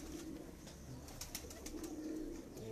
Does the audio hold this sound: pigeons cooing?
yes